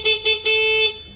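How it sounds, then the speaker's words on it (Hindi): A motorcycle horn powered by a homemade lithium-ion battery pack honks in two short toots followed by a longer blast, loud and close, with no other sound around it. "तो मैं यहां से हॉर्न को चलाता हूं।"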